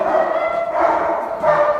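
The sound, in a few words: dog barking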